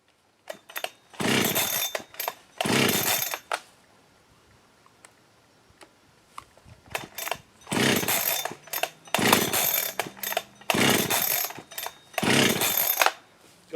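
Holzfforma G372XT chainsaw on a run test with a lean mixture, several loud close revving bursts separated by short pauses and idle stumbles.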